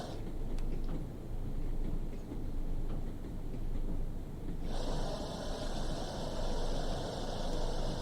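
A Class 101 diesel multiple unit on the Tees Valley Line in Train Sim World 3 rumbles as it brakes toward a stop, with a steady low roar and a hiss of air that cuts in partway through.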